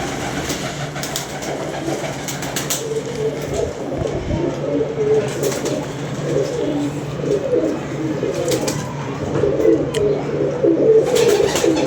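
Pigeons coo in a rooftop loft in Lahore, with low, soft, rolling calls repeating through the stretch over a steady background hum and occasional sharp knocks, with no clear talk.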